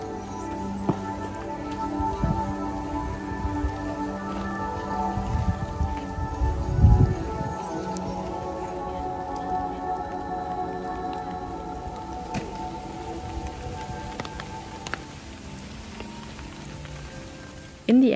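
Steady rain falling on a city street in Japan, a continuous close patter of drops on surfaces with a low background rumble, occasional louder splashes, no talking.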